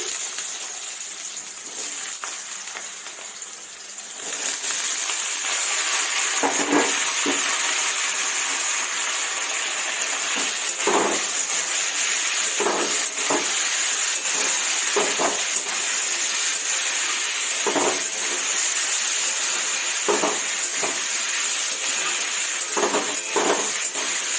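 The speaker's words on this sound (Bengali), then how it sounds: "কালো জিরে ফোড়ন দিয়েছি, এবার আমি আলুটা দিয়ে দিচ্ছি।" Potatoes hitting hot oil tempered with nigella seeds bring a loud, sudden rush of sizzle after a quieter start, then a steady hiss with repeated clinks of a utensil against the pan, close up and without voices.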